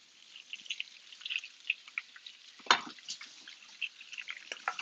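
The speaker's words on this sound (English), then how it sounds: "See, we're hearing frying now." Crackling, spattering sizzle of food frying in olive oil, a steady dense patter of small pops with one sharper burst near the middle.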